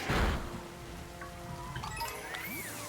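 Rain weather in a video game, a steady soft hiss of falling rain with a brief louder rush at the start and faint game chimes and tones scattered over it.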